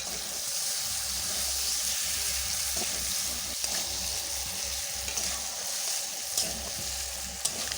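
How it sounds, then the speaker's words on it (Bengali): Spice-marinated chicken pieces frying in a pan for a chicken curry, a steady close hiss of sizzling oil with faint scrapes and a few sharp pops near the end. "এবার মশলা মাখানো মাংসটা দিয়ে দিলাম।"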